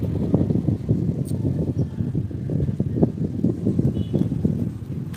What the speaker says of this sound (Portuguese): O vento começou já.